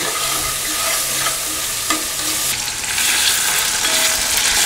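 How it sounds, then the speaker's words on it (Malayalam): Chicken pieces frying in hot oil for a pressure cooker Kerala chicken dum biryani, giving a steady close sizzle with occasional stirring scrapes and small clatters throughout, no voices. "ചിക്കൻ നമ്മൾ അതേ ഓയിലിലേക്ക് തന്നെയാണ് വറുക്കാനിടുന്നത്."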